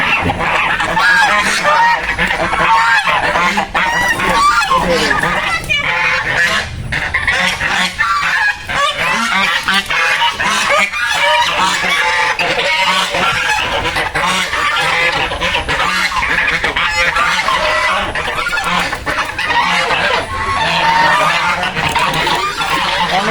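Geese honking continuously, a dense, loud chorus of many overlapping calls close by, with no clear speech.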